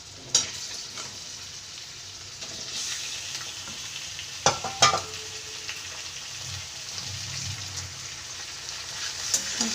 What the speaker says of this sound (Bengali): তারপর আমি দিয়ে দিচ্ছি চিকেনের পিসগুলো।